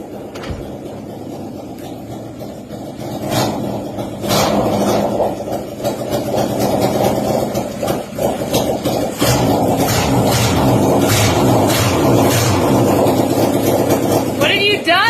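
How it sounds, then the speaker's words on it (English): A Honda CB750 motorcycle engine on a project build runs unevenly with irregular exhaust pops, loud and close, the rough idle rising and settling in bursts. "That's the first time I ever actually got that bike to run. It was a little goofy sounding."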